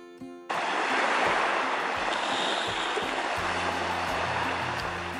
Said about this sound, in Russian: первое ощущение — это шум моря и чайки